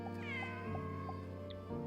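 A cat gives a drawn-out, wavering meow, close and fairly quiet, with no other sounds around it.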